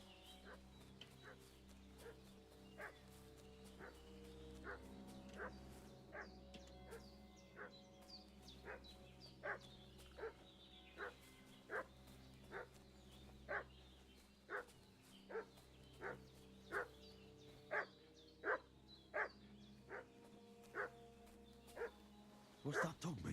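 Dog barking in Kingdom Come: Deliverance 2, a medieval village setting: a steady run of sharp, evenly spaced barks, roughly one per second, repeating for the whole stretch over a low ambient game soundscape.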